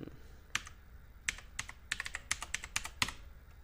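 Fingers tapping a phone number on a computer keyboard, a quiet uneven run of about a dozen crisp key clicks, sparse at first and then quicker in small bursts.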